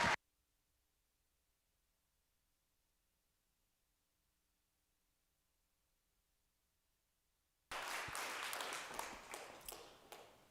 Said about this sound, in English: Can you all give Matthew a round of applause,